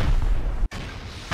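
Rocket explosions blasting base walls in the survival game Rust: a dense, loud, continuous roar of blasts with a brief sharp break midway, followed by more rumbling detonation.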